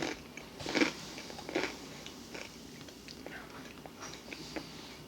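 Crunchy vinegar-flavoured onion ring snacks being chewed up close, a few crisp bites and softer crunches mixed with quiet speech.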